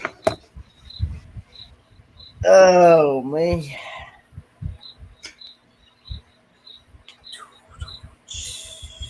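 Steady high chirps of crickets pulse at intervals through the night air during a live show, while people talk and exclaim over them.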